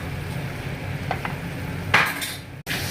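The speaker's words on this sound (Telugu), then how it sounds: "పాలకూర మగ్గింది. ఇప్పుడు తిప్పుదాము." Cooked spinach and potato curry is stirred in a pan, with a few close spoon scrapes and clinks against the metal over a low background simmer, ending in a brief sharp knock.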